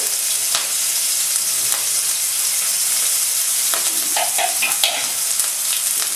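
Ginger and green chili paste sautéing with cumin in a pan, a loud continuous sizzle that stays close and steady, with a few stirring scrapes and clicks of a spoon toward the end and no talk.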